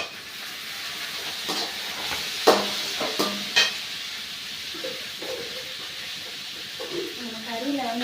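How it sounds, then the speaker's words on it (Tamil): Chopped large tomatoes added to mutton gravy in a pan, giving a steady sizzling hiss with brief stirring clatter and splashes, fairly close and continuous throughout. "பெரிய தக்காளி ஒரு 3 தக்காளி எடுத்து பொடிசாக கட் பண்ணி வச்சுருக்கேன். இப்படியே போட்டுடலாம்."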